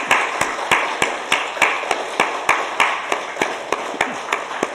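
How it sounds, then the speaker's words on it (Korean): A church congregation applauds during a worship service in rhythmic, even claps repeating steadily at a moderate distance, about a dozen distinct beats over a few seconds, with no talking over them. "박수하겠습니다."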